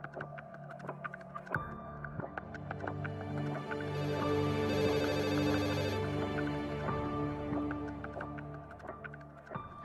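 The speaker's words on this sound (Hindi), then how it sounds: "ये किसका फोन आ गया?" A telephone rings in an indoor scene, its repeated electronic tone swelling to a dense stretch midway over a low background hum and scattered clicks.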